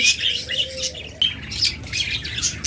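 Pet lovebirds or budgerigars kept for sale chirp and squawk in quick bright bursts close by, several birds calling over one another continuously.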